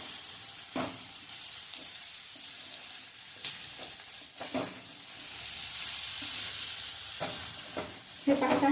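Okra being stir-fried for a Maharashtrian crushed-peanut bhindi dish, giving a steady sizzle in the pan with intermittent scraping and stirring clatters from a spatula, close and moderately loud.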